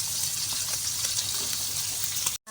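Sinamak vinegar poured into a cooking pot, a continuous bright liquid gush lasting a couple of seconds before stopping abruptly, close and alone.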